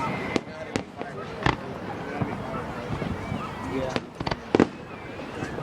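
Fourth of July fireworks at Mt. Trashmore bursting as scattered sharp booms and crackles over a steady crowd murmur, some louder pops clustered together, with a brief voice.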